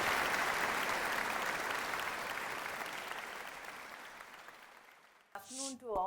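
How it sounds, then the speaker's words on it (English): An audience at the Molsoft India UGM 2025 user meeting applauds to welcome speakers on stage, the clapping strong at first and tapering steadily before a voice begins speaking. "Let us all welcome them on stage with a huge round of applause."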